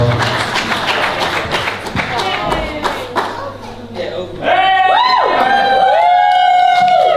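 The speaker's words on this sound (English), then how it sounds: "Big round of applause." Wedding guests clap and cheer for a couple's kiss during photos, a dense burst of applause with shouts and chatter, swelling louder in the second half as whoops and voices rise over it.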